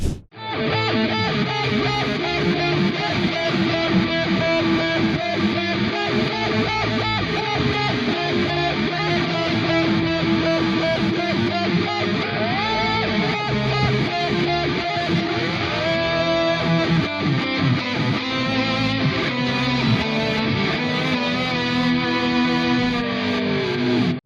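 Heavily distorted, octave-shifted electric guitar from a song intro, played through a Diezel VH4 amp with a whammy pedal set to an octave harmony and delay, sustained and loud for the whole stretch with swelling, echoing notes.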